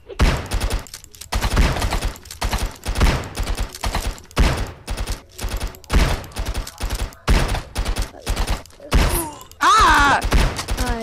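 Repeated bursts of gunfire from the Stick Arena video game fire in rapid, loud volleys across the whole stretch, with a voice crying out near the end.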